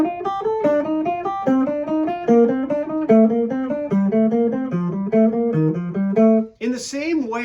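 Guitar runs an ascending tetrachord pattern while moving down the scale, a quick, even stream of plucked sixteenth notes stepping gradually lower, clear and close, ending with a short scratchy release.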